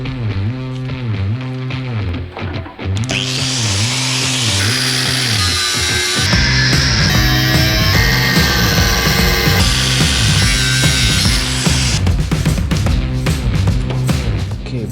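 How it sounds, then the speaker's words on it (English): Power tool cutting through nuts welded on a KTM Duke 250 motorcycle frame in a garage, a loud steady grinding whine running almost the whole time, briefly dipping before surging harsher and brighter midway. "I need to cut down those nuts here."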